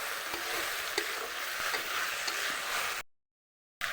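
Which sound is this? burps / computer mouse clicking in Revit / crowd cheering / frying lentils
frying lentils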